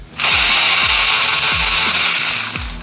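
A power tool whirs loudly and continuously while loosening the fuel tank bolts on a Triumph Daytona 660 motorcycle, its high-pitched motor whine steady, with faint low rattling pulses underneath and no talk.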